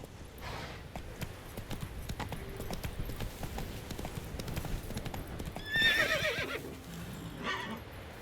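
A horse gallops and neighs in The Witcher 3, with steady clip-clop hoofbeats running throughout over game ambience and a whinny rising near the end.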